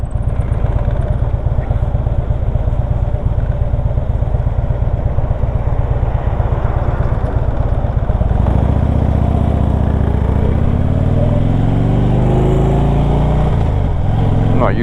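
A 2010 Harley-Davidson Electra Glide FLHTP motorcycle rumbles steadily and close while riding, its loud low engine note continuous throughout, with a deeper surge and revving shift in the second half.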